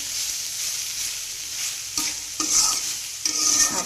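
Kalai greens with beans are stirred in a frying pan under a steady sizzle, with a few scraping strokes of a spatula standing out near the end. The sound is close and moderately loud, and no one talks.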